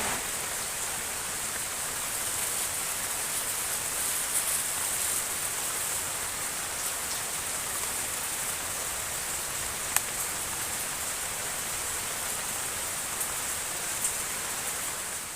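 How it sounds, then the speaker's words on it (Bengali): Steady, dense hiss of heavy rainfall, continuous and even throughout with no gaps or voices. "বাইরে কিন্তু একদম প্রচুর বৃষ্টি"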